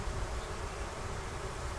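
A honey bee swarm hums as a dense, steady drone that holds at an even level throughout, with no voices.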